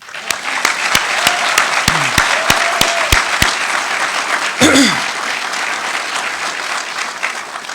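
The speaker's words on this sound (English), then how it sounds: "So we want to clap it up for Class 90." An audience at a Palm Beach County Fire Rescue recruit class graduation ceremony breaks into loud, continuous applause, with a voice calling out briefly partway through and a few sharp rhythmic claps early on.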